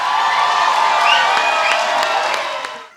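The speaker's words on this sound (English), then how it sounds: "Please extend a warm welcome to him with a big round of applause" Hall audience at a school annual day applauds and cheers in welcome of a guest, a loud, dense wash of clapping with some crowd noise that fades out at the end.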